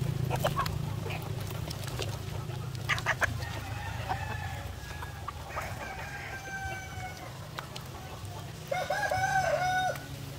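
A flock of layer chickens clucks in scattered bursts over a low steady hum, and a rooster's crow rises clearly near the end.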